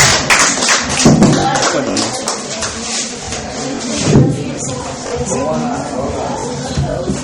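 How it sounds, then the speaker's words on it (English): Steady applause fills a classroom debate as a team captain is welcomed. Dense clapping runs throughout, close and fairly loud, with scattered louder taps and shuffles and some voices mixed in. "A round of applause."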